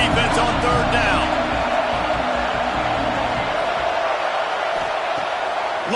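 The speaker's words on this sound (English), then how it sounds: "Decibels rising as the crowd gets behind this defense on third down" A football stadium crowd roars loudly and continuously behind a defense on third down in a Florida game, a dense steady wash of cheering and whoops with no clear breaks.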